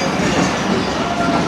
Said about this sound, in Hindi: पेशावर से कराची के दरमियान चलने वाली वन ऑफ खैबर में, जो कि ठीक 4 बजे मुल्तान रेलवे स्टेशन पहुंच रही है।